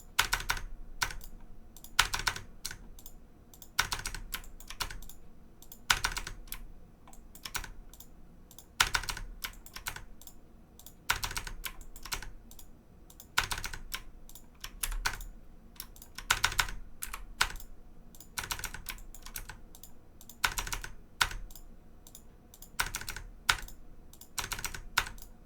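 Computer keyboard typing while entering CAD commands and repeatedly pressing Enter, with clusters of quick, crisp key clicks separated by short pauses, close and fairly quiet, with no voices.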